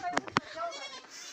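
A goat bleats in a village farmyard, a short wavering call heard close by, with people talking over and around it.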